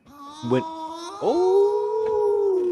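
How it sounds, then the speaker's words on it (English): A dog howling as a stream sound alert, a long, loud, sustained wavering howl with a yip-like onset and a rising second call, heard close and clean with no one talking over it. "Thank you for howling"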